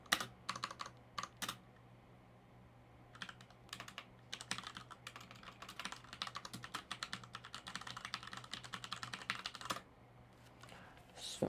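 Clicky keystrokes on a computer keyboard come in quick bursts and runs with short pauses between, fairly quiet and close over a low steady hum.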